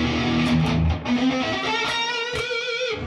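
Electric guitar played through a Marshall amp with fast alternate picking and leading-edge technique, giving a dense, sustained, distorted run of notes with sharp pick attacks, loud and close, with no talking.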